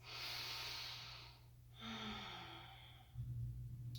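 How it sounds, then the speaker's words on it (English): Slow, deep yoga breaths during a vinyasa practice: two long, airy exhales a few seconds apart, close and clear, with no talking. "2 more breaths."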